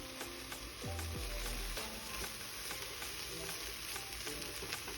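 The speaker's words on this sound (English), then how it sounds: "I'm going to now add in the garlic that I chopped up" Chopped garlic sautés with vegetables in a pan, a soft steady sizzle under scraping stir strokes and a few utensil knocks, close by and fairly quiet, with no talking.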